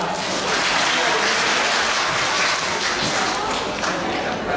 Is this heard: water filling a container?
no